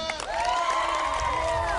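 A strongman competition crowd greets strongman Josh Thigpen with steady cheering and applause, a sustained roar with whistle-like shouts throughout.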